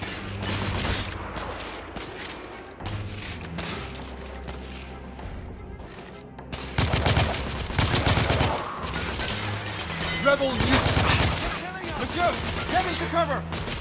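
Gunfire in the Victorian-era shooter The Order: 1886, with heavy fusillades of shots in irregular bursts, some near and loud, mixed with impacts and shouting voices during a firefight.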